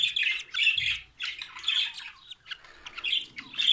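Budgerigar chicks in a nest box give rapid, harsh squawking calls in repeated close bursts, loud and near with brief pauses between them.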